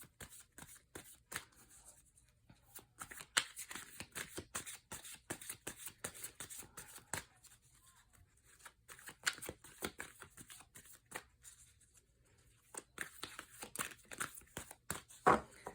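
A Moon Oracle card deck being shuffled close up, with repeated soft riffles and papery flicks in bursts over about sixteen seconds and short quiet gaps between.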